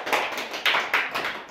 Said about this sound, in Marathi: टाळ्या वाजवा रणजितसाठी.